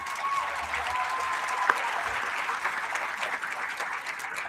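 A crowd at a league tournament claps in sustained, fairly even applause, a broad wash of many hands at moderate loudness with a single sharper clap standing out partway through.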